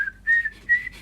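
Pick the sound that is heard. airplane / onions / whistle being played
whistle being played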